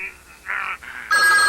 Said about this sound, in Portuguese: a cena que o telefone toca ao lado do padre Carras